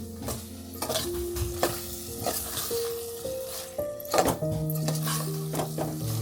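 Tempering (phodni) with curry leaves sizzling in a village kitchen pan for a chicken dish, loud crackling sizzle with repeated metal stirring knocks and scrapes, close and continuous.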